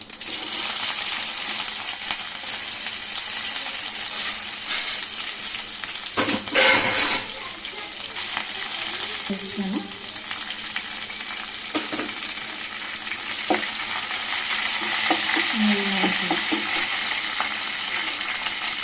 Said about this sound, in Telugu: పచ్చిమిరపకాయలు కరివేపాకు వేయించేసుకోవాలండి